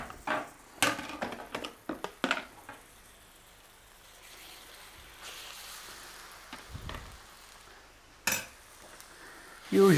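Onion paste for a lamb nihari stew fries in a pot amid a soft sizzle, punctuated by clusters of sharp utensil knocks and scrapes against the pot, some faint, others loud and close.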